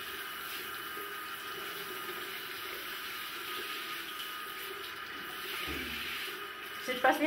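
A small amount of water poured onto a bathroom floor near the drain gives a steady wash of splashing and trickling close by, then a brief louder clatter toward the end.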